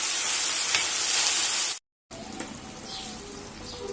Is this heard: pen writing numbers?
no